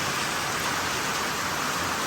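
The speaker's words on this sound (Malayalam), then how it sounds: "ഇവിടെ തിരിച്ചു വന്നപ്പോഴേക്കും അടിപൊളി മഴ" Dense, steady downpour hissing evenly without pause, a heavy rain roar close by.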